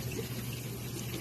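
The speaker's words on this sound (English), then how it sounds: "Man, he's splashing big time." Fish thrashing in an indoor pond, a steady watery churn and splash at a constant level that carries on through the whole short stretch with no voices.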